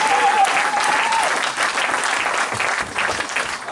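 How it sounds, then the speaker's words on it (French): Dense, sustained applause from a church congregation during a sermon, loud and continuous, with a faint tone or voice briefly audible at the start. "Donnons une acclamation au Seigneur."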